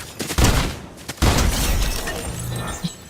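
Video game gunfire crackles in a few sharp, loud bursts with short gaps between them, ringing out close and largely alone.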